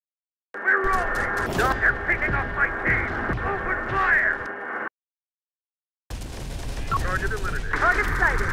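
Gunfire in the Terminator: Dark Fate - Defiance video game crackles in dense, rapid bursts under radio-style voices, cuts to silence for a moment, then resumes.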